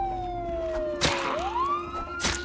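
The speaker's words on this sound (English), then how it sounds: "That siren is starting to annoy John a little bit." A siren wails in a zombie survival game, a long sliding tone that dips and then climbs again, loud and nearby, broken by sharp bursts of impact noise.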